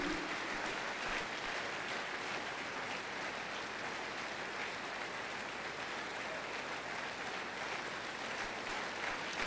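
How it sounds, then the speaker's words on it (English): An audience at a church business conference applauds for Pastor Matthew Ashimolo and Miss Ijoma Uju, with a faint, even wash of clapping heard from a distance and no voices. "A more resounding round of applause, ladies and gentlemen, for Pastor Matthew Ashimolo and Miss Ijoma Uju."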